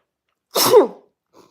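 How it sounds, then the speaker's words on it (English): One loud, close sneeze bursts out, followed by a faint breathy trailing sound. "I'm going to sneeze 4 more times"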